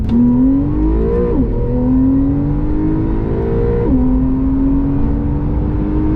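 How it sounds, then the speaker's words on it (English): Porsche 911 Targa 4S engine downshifting, with a steady engine tone that rises and drops sharply twice under load; any exhaust crackles stay faint within the continuous near drone, with no talking. "Hear those little crackles a little bit."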